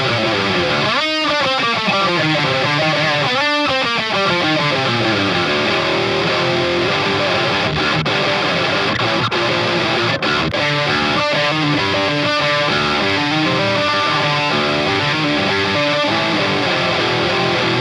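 Heavy distorted electric guitar plays sustained, sludgy chords and sliding notes, with abrupt stops and restarts, loud and close.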